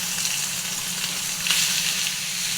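Meat searing in a hot frying pan with about a tablespoon of salad oil, a steady close sizzle that crackles evenly throughout with no voices.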